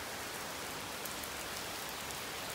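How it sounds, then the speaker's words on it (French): Steady rain falls on surfaces nearby during a hot summer day of over 30 degrees under partly blue sky, a dense, even patter with no talk. "Mais comment il peut pleuvoir et faire plus de 30 degrés?"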